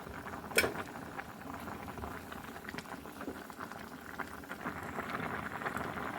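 A Thai bamboo shoot curry with sweet luffa and red ant eggs boils in a pot, with steady bubbling and soft popping close by, and a single sharp clink near the start.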